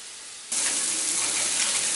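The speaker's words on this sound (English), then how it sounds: "Now I'm going to add 6 cups of water." Water pours into a pot of red beans cooking on the stove, starting abruptly as a steady, loud hissing rush with a faint sizzle, continuing without a break after a quiet moment.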